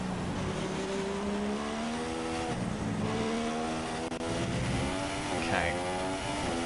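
Formula 1 car engine in the F1 2016 racing game, a continuous high-pitched whine that rises and drops with gear changes through a lap, loud and steady throughout, with a voice talking over it.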